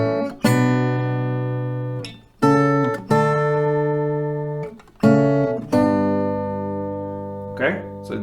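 Acoustic guitar melody played as clear, ringing picked notes and chords in several phrases with brief gaps between them, close and alone with no talking.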